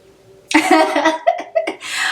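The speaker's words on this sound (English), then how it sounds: "I don't know what's going on with this cough" A sudden harsh cough bursts out up close, followed by a few shorter throat-clearing coughs and breathy exhalations.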